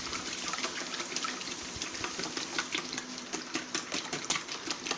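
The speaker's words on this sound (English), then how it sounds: "we're just going to give it a good whisk" Keto almond cake batter is whisked briskly in a bowl, producing a fast, rhythmic wet tapping and swishing that goes on steadily and fairly quietly up close, with no talking.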